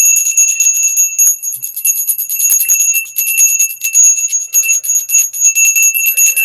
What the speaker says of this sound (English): I'm going to ring the bell to clear the energies of the cards